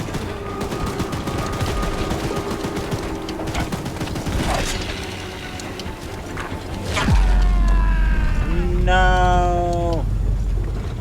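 A mounted machine gun in the video game Choo-Choo Charles pours out continuous rapid fire at the monster train Charles, with booms and a screeching, warbling train cry near the end, while someone shouts over it.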